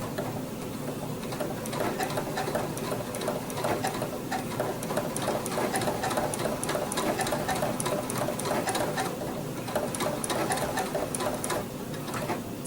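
A sewing machine runs steadily for the whole stretch, a fast even mechanical ticking and whirring as it sews blanket-stitch binding onto a quilt, close and continuous.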